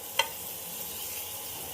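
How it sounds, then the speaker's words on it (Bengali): Ginger, garlic and onion sautéing in oil left from frying eggplant, a soft continuous hiss close by with one brief utensil tap near the start. "একসাথে দিয়ে কষছি"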